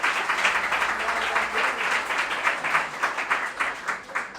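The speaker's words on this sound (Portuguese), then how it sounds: "aplauda o Senhor com o seu melhor." A church congregation at Igreja de Nova Vida do Catete applauds in a full, loud burst. The clapping carries a loose rhythmic pulse and stays strong throughout.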